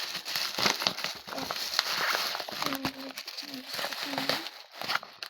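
Plastic bag crinkling and rustling in bursts, close by, with brief voice-like tones mixed in over several seconds.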